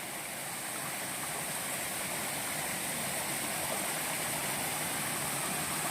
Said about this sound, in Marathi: पाणी भरपूरच वाहतो आहे